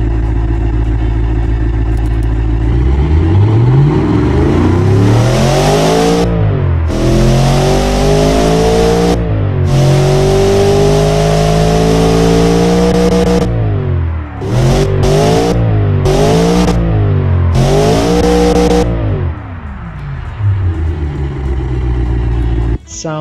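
A tuned Mercedes M113 V8 with straight-through mufflers in the Automation game roars loudly, revving up and down repeatedly with sweeping pitch changes and a few sharp blips near the end, steady and close throughout.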